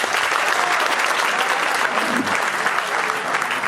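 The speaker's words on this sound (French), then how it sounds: "Est-ce qu'on peut applaudir pour ça?" Guests at a customary wedding in the Republic of the Congo break into loud, dense, continuous applause that fills the space, with little else audible over the clapping.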